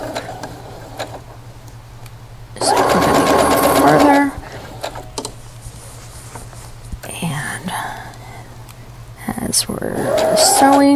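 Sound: sewing machine stitching a clamshell quilt

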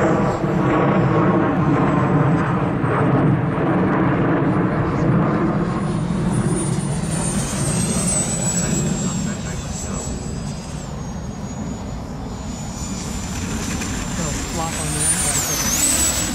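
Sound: Freewing Vulcan RC model jet landing with gear down

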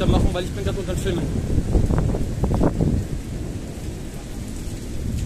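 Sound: continuous thunder and rain during a thunderstorm

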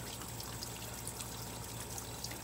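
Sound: water overflowing from a container

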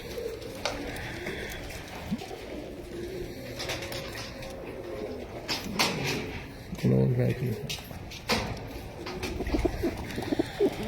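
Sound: pigeons cooing

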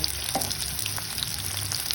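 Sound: potatoes frying in hot oil

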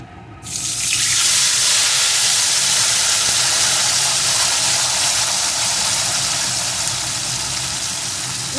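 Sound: spice paste sizzling as it is fried in oil for crab curry

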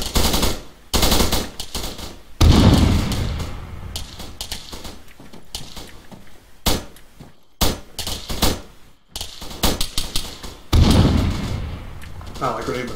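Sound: gunfire in a military video game

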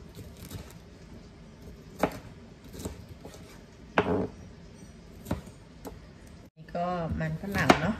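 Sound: chopping potatoes

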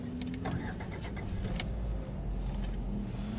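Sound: Lada Vesta engine starting on old spark plugs

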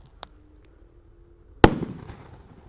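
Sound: largest Roman candle firework set off under a bottle

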